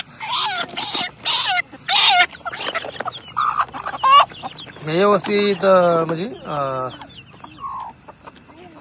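Chickens cluck and squawk close by in bursts while a person speaks over them.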